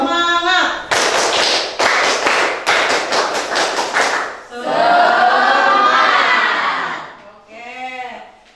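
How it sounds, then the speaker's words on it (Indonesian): A classroom group performing a rhythmic spirit clap (tepuk semangat), loud patterned bursts of claps in quick sets, with voices chanting along and a sustained group shout in between. "kita tepuk semangat."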